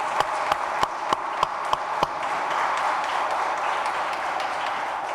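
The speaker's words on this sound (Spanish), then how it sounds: "Un aplauso para ellas." Audience applauding at a women's justice gathering, starting with a few sharp, evenly spaced claps that swell into a sustained, moderately loud round of applause.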